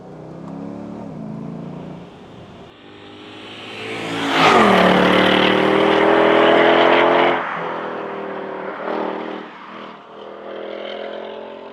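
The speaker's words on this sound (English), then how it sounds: "Get a little exhaust burble there as well." A Mercedes-Benz SLK55 AMG engine burbles and revs, swelling to a loud roaring rush of exhaust midway, then settling back to a throaty idle with small blips.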